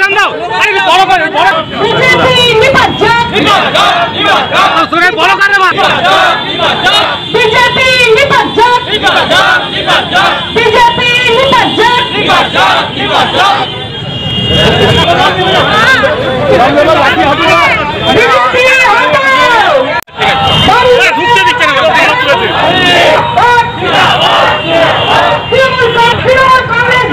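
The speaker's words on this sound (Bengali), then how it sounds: "আরে তোর স্লোগান দাও, আরে বড় করে" A Trinamool Congress protest crowd in a Kolkata street over the breaking of a Vidyasagar statue, loud and continuous, with many voices shouting slogans together amid dense babble and traffic noise.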